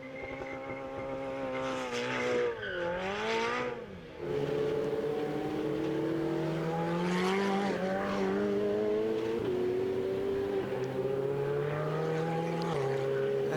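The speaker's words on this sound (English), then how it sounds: "Now it's time to make the donuts." A Ferrari Challenge race car spins donuts in the runoff area at Circuit of the Americas, tires squealing in long wavering howls over a revving engine, loud and sustained.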